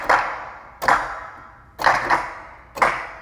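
Four sharp individual hand claps from a sample library, played one after another with uneven gaps, each bright and close with a short decaying tail, no voices.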